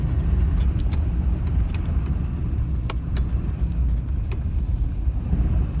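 A car driving slowly around to the back of a building at an off-grid Montana property, with a steady low engine rumble and a few faint clicks and rattles, close and continuous.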